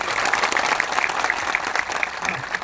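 A crowd at a public gathering claps for a local MLA, a dense sustained round of applause heard fairly loud from start to finish.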